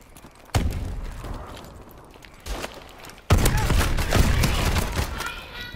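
Sniper fire in a video game: sharp gunshot bursts with a loud crack near the start, another shot mid-clip, then denser, louder firing and impacts toward the end, with game noise underneath.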